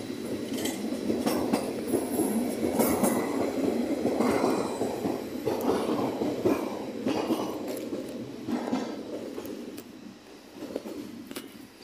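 Train at Basel Badischer Bahnhof platform, a continuous rumble with rhythmic wheel clatter and pulsing squeals as cars roll past nearby, easing off toward the end.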